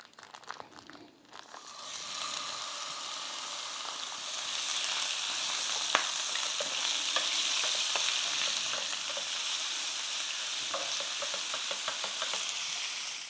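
American Wagyu 80-20 ground beef from Snake River Farms frying in a pan, a loud continuous sizzle with crackles and scraping stir strokes throughout, close and without talk.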